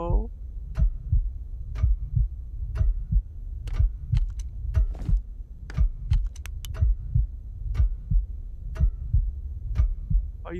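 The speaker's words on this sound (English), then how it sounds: "The heartbeat is not helping me" Loud, steady heartbeat thumping in a Paranormal Activity VR horror game, regular double-beat pulses close and prominent, with occasional sharp clicks over it and no talk.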